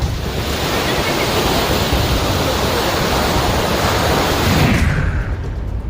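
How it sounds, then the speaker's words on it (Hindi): Flooded Kosi river in northern Bihar rushing in a dense, steady roar of turbulent water, loud and continuous, cutting off abruptly near the end. "नेपाल और भारी बारिश से उत्तरी बिहार की कोसी नदी उफान पर है।"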